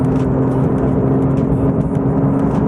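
A Porsche 992 GT3 drives along with a steady, droning engine hum and road roar from inside the cabin, constant and fairly loud with no talking.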